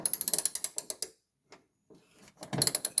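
A ratchet fitted with a 12 mm socket clicks rapidly while undoing a bolt on a vehicle side step, a close burst of ticking, a pause with a faint scrape, then another quick run of clicks.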